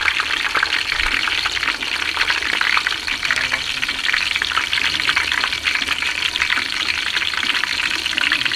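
Green chillies sizzle in hot oil in a pan while egg dum biryani is being made at home, a steady, dense hiss of frying running unbroken and close throughout.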